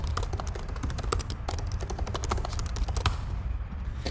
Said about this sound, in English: I'll type in my details.